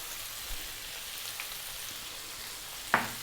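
Cubed steak fries in a hot pan, giving a steady soft sizzle and crackle with a few sharper pops and a brief stir near the end, close and moderately quiet.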